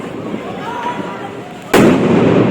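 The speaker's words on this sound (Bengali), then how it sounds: "ওই চরকি বোম গুলা হবে মনে হয়।" A Diwali firecracker in Jaipur bursts with one sharp, loud crack about two-thirds through, following a noisy stretch of distant crackling and murmuring voices, with a dense broadband roar lingering afterward.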